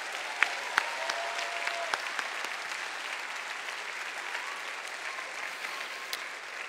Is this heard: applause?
yes